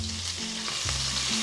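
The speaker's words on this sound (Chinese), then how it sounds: "锅烧热了之后，往里倒油，提前切好的葱花、姜泥1茶匙，蒜泥1茶匙" Chopped scallions, ginger paste and garlic paste frying in hot oil in a preheated pan: a continuous, close hiss of sizzling over a low, steady hum, with a faint stir or two.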